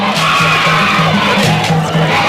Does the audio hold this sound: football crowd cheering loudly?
yes